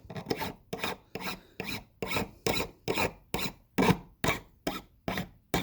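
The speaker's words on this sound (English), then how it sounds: "You can use the same file to kind of roll these frets." A steel file rasps across guitar fret ends in about a dozen steady, evenly paced strokes, each a close, bright scraping burst followed by a short pause.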